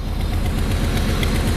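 A 1993 Chevy Camaro Z28 engine with a small exhaust leak idles close by, a steady low rumble with a rapid pulsing ticking through it.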